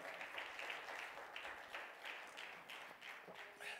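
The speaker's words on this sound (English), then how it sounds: "let's clap our hands and praise him together right now." Church congregation clapping hands in praise during a Sunday morning service, a steady rhythmic group clap at moderate distance with faint voices beneath.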